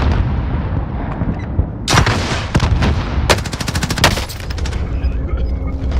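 Rapid gunfire and a sharp grenade blast ring out in a video game firefight, with bursts of automatic fire crackling from about two seconds on and a dense volley hammering past the four-second mark, over a constant low rumble.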